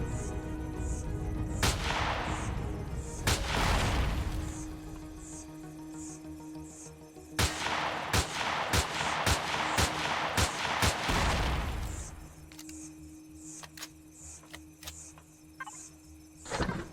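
Turrets fire in the video game Empyrion Galactic Survival: sharp, loud gunshots arrive in scattered bursts and quick rapid runs over a steady humming game ambience, with no talking.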